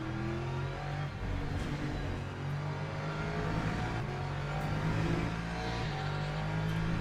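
Race car engines in the Le Mans Ultimate video game at the Circuit de la Sarthe hum in a steady, moderately loud drone with slight rises in revs, heard without talk.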